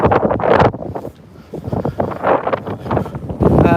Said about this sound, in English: Welcome to the windy bit.